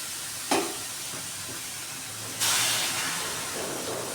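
Hot water hits roasted semolina in a pan for kesari, giving a sudden loud hiss that settles into a steady steaming sizzle, close and alone, after an earlier brief splash.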